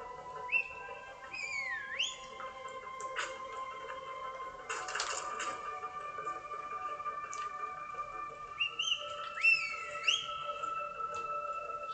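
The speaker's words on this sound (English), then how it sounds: "It's a whistle." Whistled calls from the video game Far Cry 5, two rising and falling tones near the start and again later, fairly clear over a steady ambient game background with a brief burst of noise midway.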